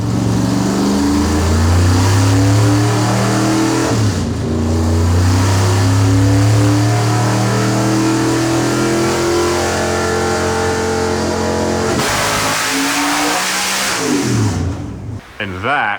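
Chevy C10 on a dyno during a storm, engine revving hard and close through long climbing pulls, with a short dip around four seconds and a sharp drop near the end, voices faint underneath.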